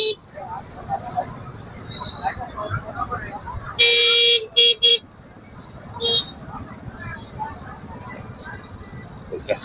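Congested traffic at the Long Thanh wholesale market in Dong Nai, with a low vehicle rumble and several sharp car and motorbike horn blasts in quick bursts midway, while people talk nearby.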